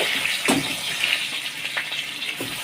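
Fish head frying in hot oil for a Bengali muri ghonto with banana stem, a steady close sizzle and hiss with small crackles and pops scattered throughout.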